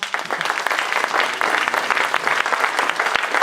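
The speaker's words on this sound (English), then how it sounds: "Give yourselves a round of applause." Audience applause fills a school welcome-back address, a dense, steady clapping from a large crowd that runs loud and unbroken throughout, with no talking over it.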